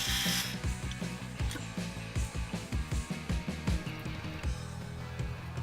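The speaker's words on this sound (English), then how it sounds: "I will be drilling something between 3 and 4mm into the fretboard" A drill whirs in short repeated bursts, boring 3 to 4mm holes into a wooden guitar fretboard with a rhythmic grinding, close and fairly loud, with no voices.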